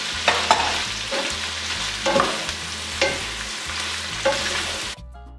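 Celery stir-fries in a hot pan for pancit bihon, a loud close sizzle broken by rhythmic scraping stirs roughly once a second, then cutting off abruptly near the end.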